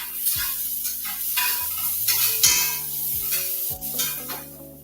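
Onions sizzling steadily in a hot pan while a utensil scrapes and stirs them in repeated strokes, close and clear with no talking.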